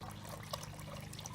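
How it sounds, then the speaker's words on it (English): A resin tiered garden fountain, a 30.3-inch Garden Treasures model, runs with a soft, steady trickle of water spilling between tiers. It is faint and continuous, with no voices. "Water is running smoothly and lights are shining."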